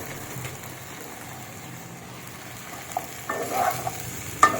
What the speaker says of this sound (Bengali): এবার কিন্তু আমি কেটে রাখা ঢ্যাঁড়সগুলো তুলে দিচ্ছি।